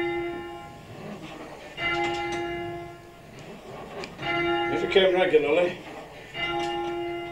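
A learner rings a bell at All Saints Parish Church, Wath-upon-Dearne, with an instructor. Several resonant, ringing strikes come at spaced intervals, each with a long decaying hum, while someone talks in between.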